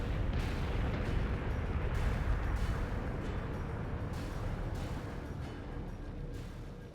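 Heavy, continuous barrage of missile launches and weapons fire in the space combat game Battlestar Galactica Deadlock, loud and dense with repeated booming bursts rolling over each other.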